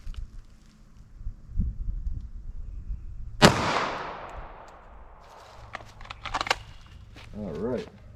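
A 9mm pistol loaded with Federal Punch ammunition fires a single loud, sharp shot outdoors, and the crack rings out into a long echoing tail. Quiet shuffling comes before it and rustling and clicks follow.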